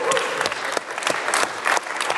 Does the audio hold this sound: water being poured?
no